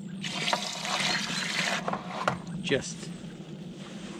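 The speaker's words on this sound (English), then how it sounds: "just filling up a couple of barrels of water just for a wash" Water running from a hose into a couple of barrels for washing apples before cider pressing, a steady rushing gush that grows more uneven, heard close with brief speech over it.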